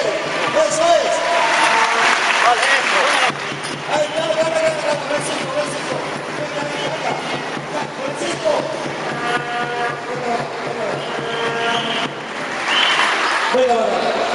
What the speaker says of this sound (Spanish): Fuerte el aplauso, fuerte